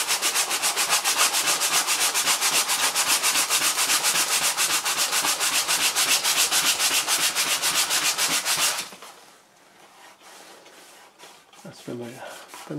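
Sandpaper rubbing steadily over a Toyota Avensis sun visor from a 2004 second-generation model, a dense, continuous rasping scrape for most of the clip, then stopping abruptly into near quiet with a few faint handling knocks.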